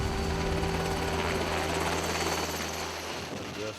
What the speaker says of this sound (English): The new medevac helicopter was designed with the help of Vietnam Dustoff pilot Jim Wingate.